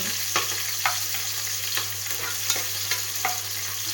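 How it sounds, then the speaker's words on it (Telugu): Chopped onion and green chillies fry in hot oil in a pressure cooker for a soya bean pulao, giving a steady loud sizzle with a spoon scraping and stirring every half second or so, no voices. "దీంట్లో ఉల్లిపాయ పచ్చిమిర్చి కొద్దిగా వేగిన తర్వాత"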